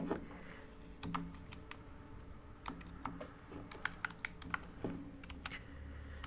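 Someone types on a computer keyboard while entering values into a MySQL table, a run of quiet, close, irregular key clicks in small bursts with brief pauses.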